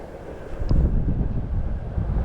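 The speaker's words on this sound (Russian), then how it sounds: "Электричка уже наша слышно." A low, steady rumble of a distant electric commuter train rolls on with wind noise, no voices, a soft continuous drone throughout.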